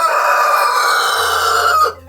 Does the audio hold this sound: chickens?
yes